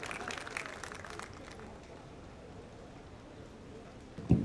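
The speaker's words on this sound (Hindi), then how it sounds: "कम ऑन एवरीवन, जोरदार तालियां हो जाए।" Audience applause at a film music launch event, a dense patter of clapping that starts strong, then thins and fades over a few seconds.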